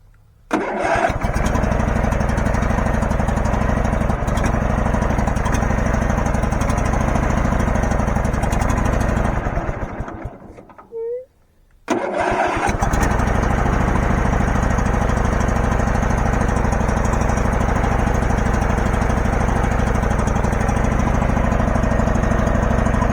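Small engine on a Case 444 garden tractor runs loud and steady, needing choke to keep going, sputters and nearly dies around the middle, then picks back up to a strong continuous run.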